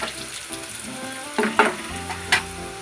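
Onion and asafoetida tempering in a pan for a snake gourd kootu, a steady low sizzle broken by a few sharp clinks and scrapes of a spoon against the pan, with no talking.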